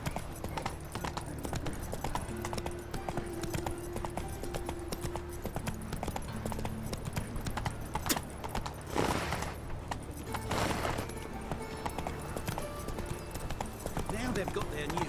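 Roach, the horse in The Witcher 3, gallops with a steady, rapid clip-clop of hooves throughout, close and prominent under game ambience and a few brief bursts of noise.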